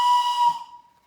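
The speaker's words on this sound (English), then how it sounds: "where it says Celebrate Thomas, and we do a quick whistle on it." Toy Thomas the Tank Engine whistle marked Celebrate Thomas, blown once at close range as a single loud, breathy steam-style whistle that fades out within about a second.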